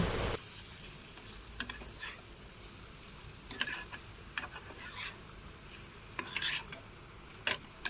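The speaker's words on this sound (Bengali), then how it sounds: "এরপর আমি এর মধ্যে দুটো চেরা কাঁচা লঙ্কা আর সামান্য ধনেপাতা কুচি দিয়ে আবারও একটু কষিয়ে নেব" Prawn kalia masala sautés in a pan with slit green chillies and chopped coriander, giving a soft, low sizzle broken by scattered spatula taps and clicks.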